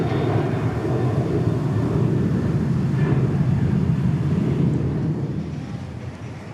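A UPS cargo plane departs DFW International Airport at night, a loud, steady roar of jet engines with broad low rumble that holds for several seconds before easing slightly toward the end.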